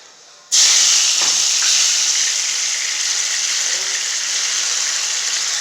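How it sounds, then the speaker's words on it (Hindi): Battered popcorn chicken bites drop into hot oil with a sudden loud burst, which settles into a steady, close, bright sizzle and hiss that fades only slightly. No voices. "तो फिर इसको करते हैं हम फ्राई।"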